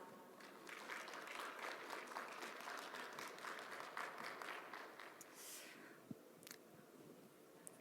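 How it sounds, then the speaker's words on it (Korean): An audience at a forestry expo talk concert applauding a group manager, steady moderate clapping that fades after about five seconds, followed by a few scattered claps and small room noises. "지금까지 수고해주신 송현주 그룹 매니저님께 큰 박수 부탁드립니다"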